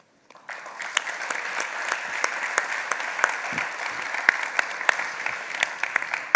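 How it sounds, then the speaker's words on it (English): A conference audience at MHSummit 2023 applauds after a technology panel: brief silence, then a steady, close round of clapping from a fair-sized crowd that carries on without any voices. "maybe one round of applause."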